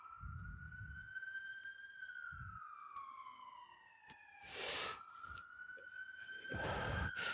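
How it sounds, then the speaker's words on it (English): An ambulance siren wails nearby in a New York street, its pitch sliding down and back up, with a few bursts of traffic noise breaking in. "You guys hear that ambulance?"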